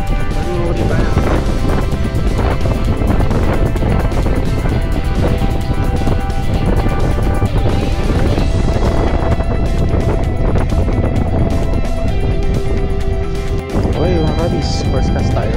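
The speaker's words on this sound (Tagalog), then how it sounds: "Ang hangin, grabe." Loud, steady wind buffeting the microphone outdoors while fishing, a constant roaring rumble across the whole stretch, with voices faintly underneath.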